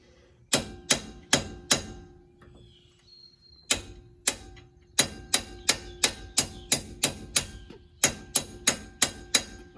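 A 3/4 inch bolt is hammered to drive out a wheel stud on a Ram 2500, producing loud, close metallic strikes in quick, regular bursts with short pauses between groups.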